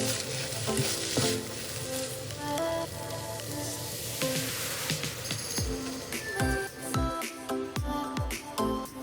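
Salmon fried rice with finely chopped green onions being stirred in a hot pan, a steady sizzle with repeated scraping and clinking strokes from the spatula, close and continuous throughout.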